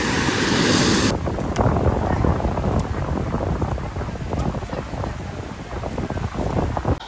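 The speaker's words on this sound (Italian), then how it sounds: "le onde sono tanto alte, sono grosse e a noi non ci piacciono le onde" High, heavy sea waves at an Italian beach, a continuous surging roar of surf mixed with strong wind buffeting the microphone, loud and unbroken throughout.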